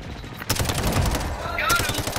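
Rapid gunfire from the Call of Duty: Modern Warfare shooter game rattles steadily through the whole moment, close and loud, with voices talking over the shots.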